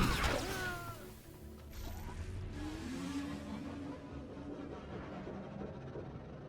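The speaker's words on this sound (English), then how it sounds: "That sounds like a high-end bike now." A high-end speeder bike engine in Star Wars: The Old Republic on Taris, revving with rising and falling whine over a steady rumble and a sharp knock near the start. It sounds close and continuous.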